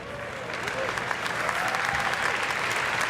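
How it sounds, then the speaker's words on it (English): A large conference audience at Google I/O 2017 applauds and cheers as Android team speakers take the stage, a broad, sustained roar of clapping with scattered whoops from a big hall. "Wait, don't cheer us, cheer the next speakers"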